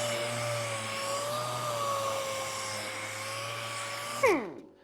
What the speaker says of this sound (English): It's a 60 grit in there. on this 6-inch sander, 6-inch air sander.